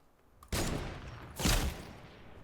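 Gunfire in the Fortnite OG battle royale game, with two loud, broad gunshot blasts about a second apart over steady in-game background noise.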